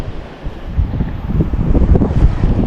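Steady wind at Nipah Beach on Pulau Nasi, Aceh, buffets the microphone in a low, rumbling roar that swells and gusts, with a faint wash like surf somewhere in the background.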